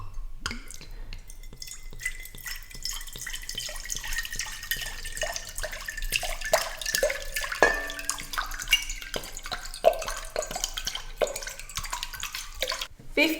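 Water poured into a bowl while making pizza dough, a steady splashing trickle with drips throughout, moderately close and fairly quiet.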